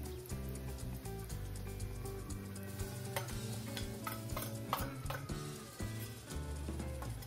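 Asafoetida, homemade masala and coriander powder frying in hot oil for a Maharashtrian masvadi rassa, a soft sizzle with scattered clicks and scrapes of stirring.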